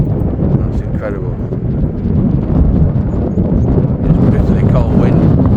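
Cold wind buffets the microphone outdoors in a valley at a wild camping spot, a loud continuous low rumble that swells and eases throughout.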